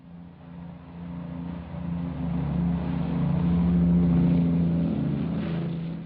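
An aircraft takes off from a runway at Heathrow around 1946, its engines a low, steady droning roar that swells gradually and then eases slightly, muffled in old archival sound.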